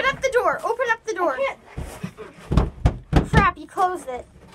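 A door is opened and closed with a couple of heavy thuds amid excited talking from several people, the knocks landing between and under the voices.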